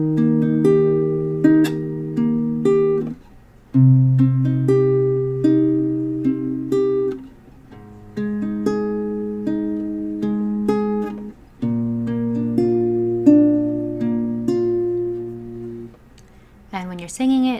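A plucked acoustic guitar plays the chord progression of a song, each chord picked note by note and left ringing, in four clear phrases with brief pauses between them, played alone without singing.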